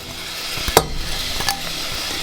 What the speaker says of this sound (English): rice bran oil here, and then we'll throw in our chopped up onions